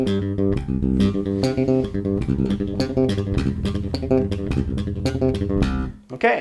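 Bass guitar played with three-finger picking, rapid triplets of three notes on each string crossing steadily across the strings, a dense even stream of plucked notes heard alone without talking.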